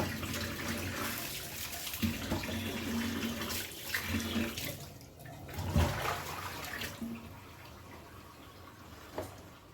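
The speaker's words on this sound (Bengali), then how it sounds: "সেই ফলগুলো এখন ভালো পানি দিয়ে ধুয়ে এখন এইভাবে করে রেখে দেব" Tap water runs steadily into a kitchen sink while fruits soaked in salt water are rinsed, with splashing and knocking of fruit and handling against the basin, moderately close and without talk.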